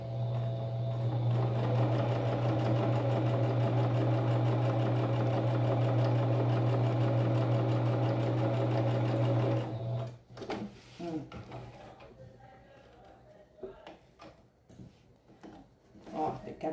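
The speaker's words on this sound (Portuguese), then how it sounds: "E passar um pezinho de máquina." A sewing machine stitches two stacked fabric scraps together for a colorful rug, a loud steady humming whir for nearly ten seconds that stops abruptly, followed by scattered handling clicks and light rustling.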